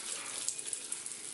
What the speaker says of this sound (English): Pour equal parts soju and Sprite.